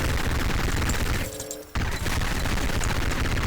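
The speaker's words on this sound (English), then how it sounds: "This is so much better than the minigun I used last time" Minigun firing nonstop in Garry's Mod during a zombie survival map, a loud dense roar of rapid gunfire that briefly cuts out near the middle before blasting on again.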